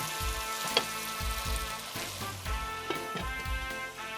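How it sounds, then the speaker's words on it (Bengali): Beef for haleem cooks in a pot with a soft, steady sizzle and bubbling. Faint repeated thumps and clatter come from close by under the hiss. "আচ্ছা মাংসটা একটু কুক হতে থাকুক"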